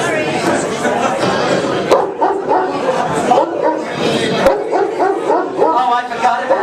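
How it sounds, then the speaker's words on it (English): A big guard dog barks and yips repeatedly in a busy indoor scene, the barks mixed with overlapping chatter and voices throughout. "It was your idea to get a guard dog."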